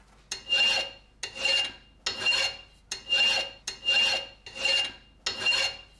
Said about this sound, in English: All it's doing is just burnishing the surface and making it shiny.